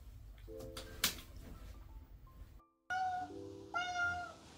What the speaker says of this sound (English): Is he crying? Meow.